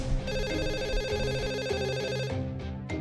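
A phone rings while a call is being placed, a loud, close electronic ringtone pulsing through about two and a half seconds before it cuts off, followed by a couple of short tones.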